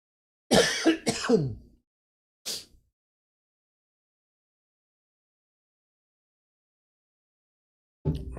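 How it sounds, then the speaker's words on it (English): A couple of harsh coughs or throat clears close up, followed by a shorter one, then silence until a brief sound at the end. "I have to cough again"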